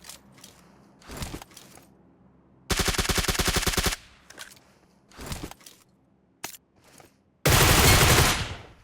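Automatic-weapon fire in Fortnite: several separate rapid bursts, some short and some sustained, loud and close, with brief footstep-like thuds in the gaps.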